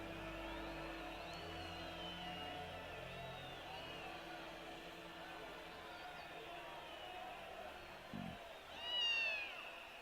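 A cat in the video game .hack//G.U. Last Recode gives a short meow near the end, rising over a steady ambient game backdrop with a brief low thump just before.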